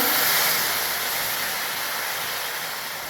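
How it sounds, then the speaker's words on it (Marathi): A little water hits hot cooking masala in a pan for a moth bean curry, setting off a steady broadband hiss that fades slowly, close and without voices. "मसाला शिजण्यासाठी आपण थोडासा त्याच्यामध्ये पाणी शिंपडूया।"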